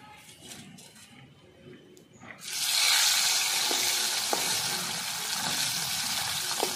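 Bele fish frying in hot oil: after a couple of quiet seconds, a loud, close, hissing sizzle starts suddenly and carries on steadily with faint pops and clicks.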